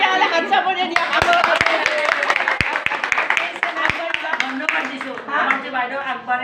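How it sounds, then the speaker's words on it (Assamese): A small indoor group claps in scattered, uneven bursts while people chatter and chuckle over it, close and casual rather than a full ovation. "তেতিয়াহ'লে হাত চাপৰি দিয়া।"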